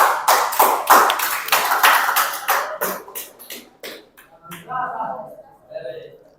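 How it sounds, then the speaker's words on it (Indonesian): A classroom applauds a presenting group with a few seconds of scattered, uneven hand claps that thin out and stop, followed by a person speaking. "Oke, kita beri aplaus lagi untuk kelompok 1."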